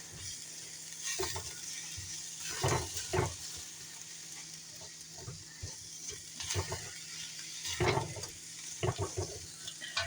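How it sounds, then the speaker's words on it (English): Dinner ingredients sizzle in a frying pan while a utensil stirs them, giving a continuous close fry with irregular louder scraping and clattering bursts and no talking. "All right, mixing it all in."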